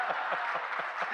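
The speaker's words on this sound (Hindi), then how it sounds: "सब कवियों की इच्छा सोता ताली खूब बजाए" An audience at a poetry recital claps briefly and steadily, a dense wash of hands at moderate volume with no voices over it.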